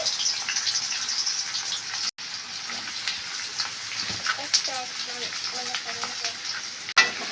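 Onions fry in hot oil with dried red chillies, cumin and mustard seeds, giving a constant close sizzle with faint stirring and a few short clinks. No one speaks over it.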